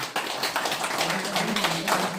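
An audience at a marketing talk claps with a loud burst of many hands, uneven and close, with a voice talking over the clapping.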